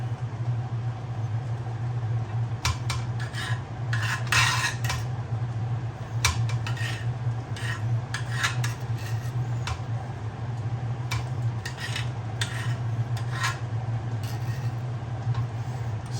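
Cutlery scrapes and clinks against a plate while steak is sliced into strips, in short irregular bursts over a steady low hum of a stove or extractor fan.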